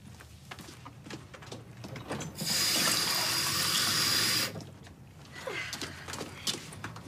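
Water runs steadily from a tap or jug into a glass for about two seconds, a loud, even rushing pour set against quiet indoor room sound with some clatter before and after.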